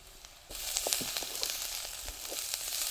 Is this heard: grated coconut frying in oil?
yes